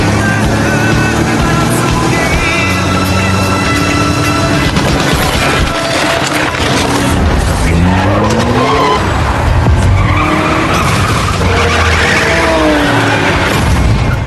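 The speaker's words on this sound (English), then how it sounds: "watching two cars go head-to-head like a scene from Fast Furious" Two cars racing head-to-head with tires skidding and squealing, a loud continuous engine roar under dramatic music, with a few heavy impacts mixed in.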